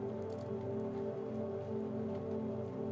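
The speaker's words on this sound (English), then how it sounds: "It's just raining." Steady rain falls in a video game, a continuous even patter over a low tonal hum, with no voices.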